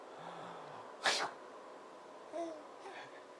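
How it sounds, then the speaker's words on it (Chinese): A single sharp sneeze from a man bursts out near the middle, with a child babbling softly around it and a faint voice afterward. "爸爸打喷嚏"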